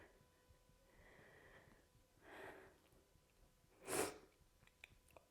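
Breathing during a yoga balance flow, soft airy breaths rising and falling at a slow pace, then one sharper, louder exhale near the end, all quiet and close.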